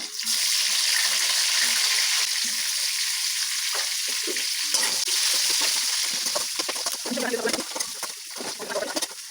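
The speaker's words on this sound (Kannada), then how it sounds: "ಮೆಣಸಿನ್ಕಾಯಿ ಹಾಕಿದ್ದೀನಿ ಫ್ರೈ ಮಾಡೋಣ ಇದಕ್ಕೆ ಈರುಳ್ಳಿ ಹಾಕೋಣ" Green chilies and sliced onion fry in a hot pan with a loud, steady, close-up sizzle that holds for the whole stretch, crackling a little more near the end.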